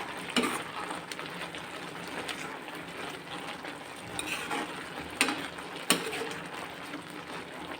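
Carrot halwa being stirred with cardamom powder in a pan: continuous scraping and soft sizzling, with a few sharper knocks of the spoon against the pan.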